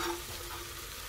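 Garlic and onion fry in a pan for a pot of beans, giving a short, quiet, steady sizzle with a faint stir and no talking.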